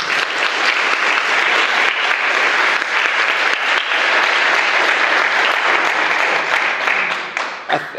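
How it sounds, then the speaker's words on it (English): A workshop audience gives a loud, sustained round of applause, with dense clapping lasting several seconds before it starts to thin out at the end. "Maybe a big round of applause for everyone for coming along."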